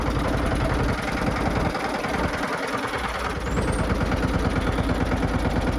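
A tractor engine runs on a farm, giving a steady, rhythmic chugging close by that briefly softens midway and then resumes its even beat.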